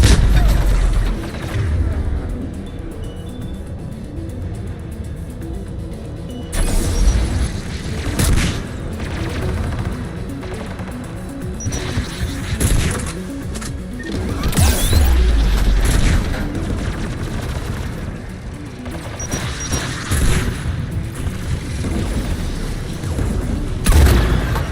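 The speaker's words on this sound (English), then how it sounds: "Mounted turret." A mounted turret fires in the video game Mass Effect 3, with heavy booming bursts and rattling volleys recurring over a steady background of battle noise, and a voice breaks in briefly.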